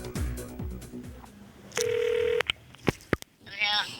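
A telephone call is placed: one steady tone sounds for about half a second, followed by a few sharp clicks and a faint burst of tones, with light music underneath.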